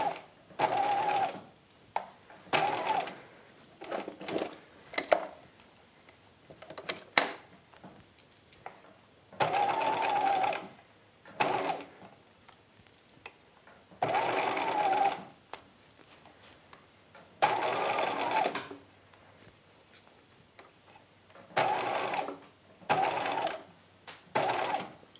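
A sewing machine bastes a dress bodice at a long stitch length, running in repeated bursts of rapid whirring stitching separated by short pauses, close and clear with no talk.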